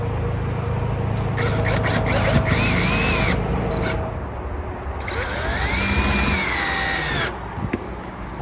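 A power drill drives self-tapping screws into an RV awning rail: a loud, steady whine close up that rises and falls in pitch through several passes, then cuts off near the end.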